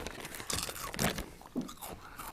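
Crunchy Eat Real tomato and basil lentil puffs being chewed up close, a series of dry crisp crunches and crackles in uneven bursts over a couple of seconds with no talk.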